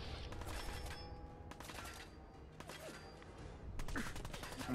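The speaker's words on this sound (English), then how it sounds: "there's people shooting at me from everywhere" Fallout 4 gunfire, with repeated shots cracking from several directions amid constant combat noise, fairly close and steady, with a voice talking over it.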